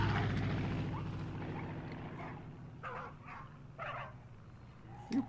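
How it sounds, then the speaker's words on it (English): In the video game Far Cry 5, a dog gives several short barks at a moderate distance, spaced out over low game background noise. "Barking."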